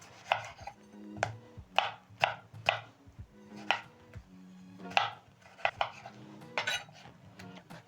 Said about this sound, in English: I'm going to start off by chopping my tomatoes a little bit